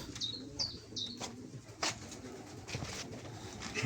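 Pigeons in an outdoor aviary coo and chirp softly with occasional wing flaps, a few short repeated calls over a low outdoor background at moderate distance.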